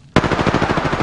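Rapid automatic gunfire from a video game erupts suddenly and hammers on in a steady, loud burst of closely spaced shots with no talking.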